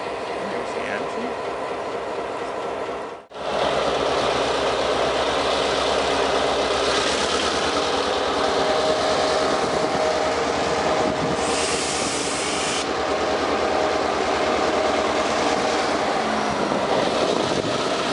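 SMS freight train locomotive in Delanson idles and rumbles steadily with a loud, continuous low engine drone and broad rail noise after a brief cut near the start, and a faint voice talks briefly over it.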